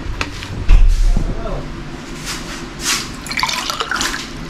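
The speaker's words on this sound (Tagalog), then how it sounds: "So, inom muna tayong tubig." Water is poured and then drunk, giving a thump, then splashy trickling and intermittent drips and gulps at close range, with faint voices in the background.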